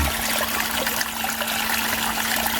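Handheld JESIMAIK 18.5 GPM pool vacuum drawing up water, a steady close rushing, trickling wash with a faint constant motor hum underneath, continuous and even throughout.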